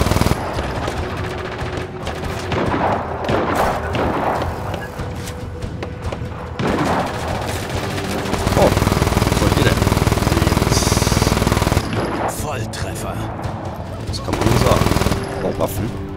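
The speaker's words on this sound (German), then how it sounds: "Ich schieße halt auf die Zivilisten." Rapid gunfire in the Just Cause 3 video game, heard as loud sustained bursts of shots and thuds with game effects, intermittent over the whole stretch.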